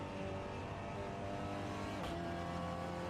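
Audi race car from a racing game lapping the Nürburgring Nordschleife, its engine a steady, loud drone throughout with a brief shift in pitch partway through, no voices.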